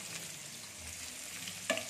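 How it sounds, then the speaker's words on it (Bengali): Chopped onions fry in a pan with green chillies, a steady soft sizzle running throughout, with a brief clatter of stirring near the end. "পেঁয়াজটা ভাজতে দেবো।"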